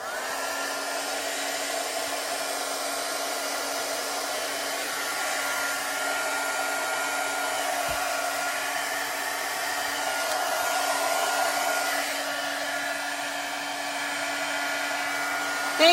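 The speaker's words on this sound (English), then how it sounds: "take my dryer and dry those spots a little bit." A handheld hair dryer blows continuously at close range to dry chalk on a craft project, a steady loud whirring hum that swells slightly partway through, with no talking.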